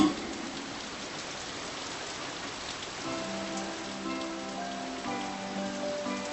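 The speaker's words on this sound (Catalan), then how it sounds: "Aquesta tempesta no és gens normal." Steady rain storm in an animated series, a dense even hiss of falling rain with a faint low tone and soft musical notes entering partway through, with no voices.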